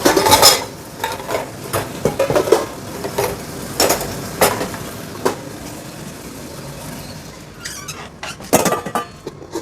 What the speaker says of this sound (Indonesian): Nah, goreng ikan ya.